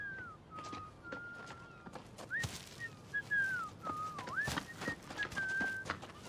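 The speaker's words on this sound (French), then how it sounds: "Je connais ce sifflement." A person whistles a wavering, sliding melodic tune at moderate distance, with faint thuds and movement noises in the background.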